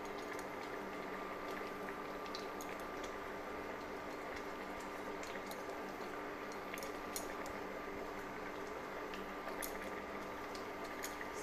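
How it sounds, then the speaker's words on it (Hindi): Bottle gourd curry with coriander leaves being stirred in a pan, a steady soft bubbling and sizzling simmer with faint scraping ticks, continuous and close, no talking. "इसको भी अच्छे से मिला लेती हूँ।"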